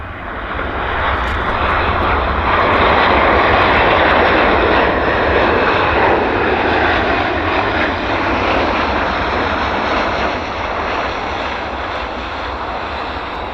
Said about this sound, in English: We do have a lander, though. CRJ.